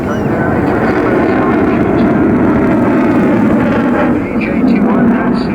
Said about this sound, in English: Fully lit up afterburner.